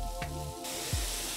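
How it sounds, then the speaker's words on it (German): Ground meat for lasagne sears in a pan with a steady, close hiss of sizzling fat, joined by a couple of brief stirring scrapes, and no talking. "Mein Hack ist jetzt hier schön am Anbraten."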